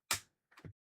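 Keyboard keys pried up from a laptop during repair: one sharp plastic crack followed half a second later by a softer double pop, close and isolated in silence.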